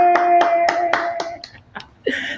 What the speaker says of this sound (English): Give me some claps for you, ladies.